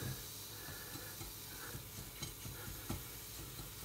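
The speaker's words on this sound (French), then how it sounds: "Je ne sais pas si vous l'entendez, mais ça crépite." Steady crackling sizzle from a pan while an eggplant gratin is cooked, with faint stirring scrapes and a continuous hiss throughout.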